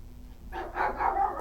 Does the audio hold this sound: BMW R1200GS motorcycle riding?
no